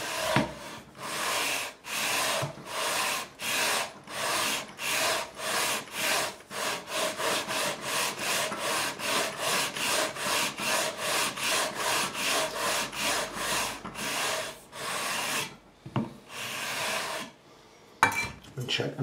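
Long strokes of sandpaper on a radius beam working a guitar neck during a refret, a steady rhythmic back-and-forth rasp of about thirty close, even passes that stops briefly near the end before a couple of final rubs.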